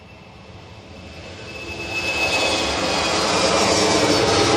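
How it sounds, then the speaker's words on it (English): An Embraer jet approaches Bristol Airport, its engine roar swelling steadily from moderate to loud over several seconds as it draws nearer, with a rising whine on top. "I hear the Embraer is on its way now."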